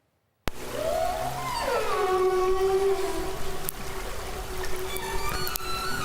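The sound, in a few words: orca and humpback whale songs picked up underwater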